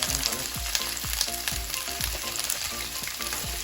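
Mushrooms tumble into a hot frying pan for a tofu curry, raising a steady, close sizzle with light stirring and scraping throughout, and no talking.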